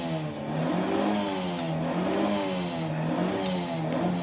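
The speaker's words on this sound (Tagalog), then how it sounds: "Si Kuya doon, pinapawild niya yung kutsi niya." A car engine revved hard and held high, with rising and falling harmonic sweeps as the throttle is blipped repeatedly; loud and close with no talk over it.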